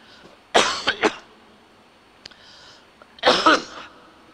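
Several harsh coughs close by from someone recovering from COVID: a quick double cough, a faint catch of breath, then another rough cough a few seconds later.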